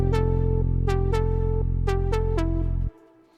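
Short synthesized melody played back in music software, a handful of plucked notes over a steady sustained bass tone, stopping abruptly into quiet.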